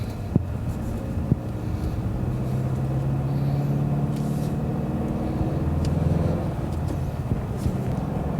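A Ford Mustang engine in sport mode gives a steady low rumble that swells slightly as it accelerates, heard from inside the car with faint wind noise and no talking.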